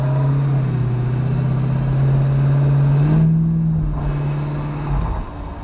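LS-engined Chevy Nova driving around the block, its steady engine drone rising under acceleration, then easing and swelling again, loud and close throughout.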